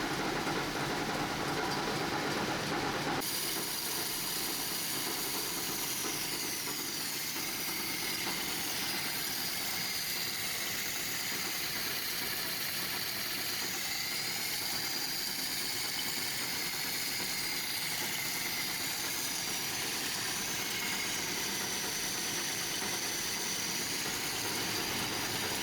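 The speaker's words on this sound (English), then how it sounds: "The car sounds a bit rattly over the microphone" A Datsun ute engine runs steadily the whole way through, with a constant near drone and rattling from loose items in the tray. No one speaks.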